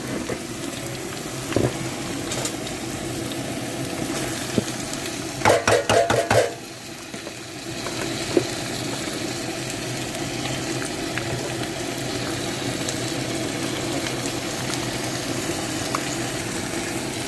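Chicken pieces are stirred with ground masala paste in a pan for chicken kurma, a continuous bubbling sizzle with a brief burst of spoon-on-pan scraping and clatter midway.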